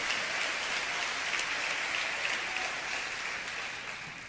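Dense, sustained applause from a church congregation clapping for the Lord during a sermon, a steady roar of hands that fades slightly at the end.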